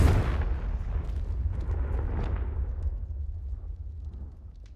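A Confringo fire spell blasts in the game Hogwarts Legacy, a loud booming burst up front that rolls into a long, heavy rumbling decay fading over several seconds.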